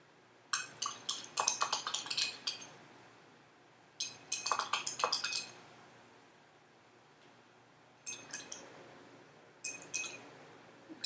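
A spoon stirs baking soda solution in a glass, clinking against the sides in quick rattling bursts separated by quiet pauses, close and fairly faint.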